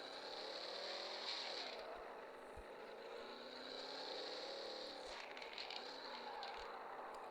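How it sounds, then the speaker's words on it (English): Car drifting through a turn, likely in a racing video game: a steady engine roar with a high tonal whine, rising and falling pitch sweeps and some tire-like noise, loud and continuous throughout with no talking. "We're just gonna turn and drift."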